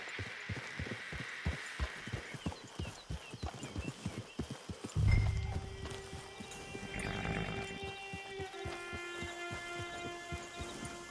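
Horse hooves clip-clop at a steady walking rhythm in the video game Red Dead Online, close and distinct, with a thump and soft ambient tones partway through.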